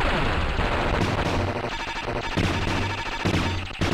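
Rapid auto-fire shooting in the Silkworm arcade shoot-'em-up, a dense, continuous stream of loud electronic gunfire blasts layered over game music, with no pauses across the whole stretch.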